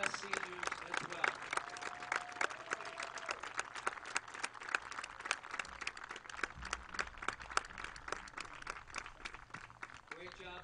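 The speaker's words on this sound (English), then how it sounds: "Can we give one more round of applause to our Cranston West seniors as well?" A crowd applauds Cranston West football seniors before a high school game against Bishop Hendricken, scattered sharp claps running throughout under a public address voice and crowd noise.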